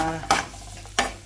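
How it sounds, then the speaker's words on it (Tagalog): Garlic and onion sauté in hot oil with a soft sizzle under three sharp scraping stirs of a utensil against the pan, close and fairly quiet. "gigisahin natin ang bawang, sibuyas at saka"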